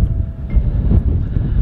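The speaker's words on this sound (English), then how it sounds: "Oh, there's the wind again." Wind buffeting the microphone in the White Sands desert of New Mexico, a loud, close, low rumbling roar with gusty swells throughout, no talking.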